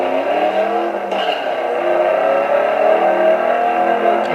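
Dodge SRT-4 four-cylinder car racing against bigger cars, its engine droning steadily at high revs with rising and falling pitch, loud and continuous throughout with no talk.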